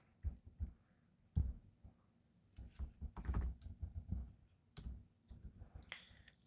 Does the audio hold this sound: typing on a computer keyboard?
yes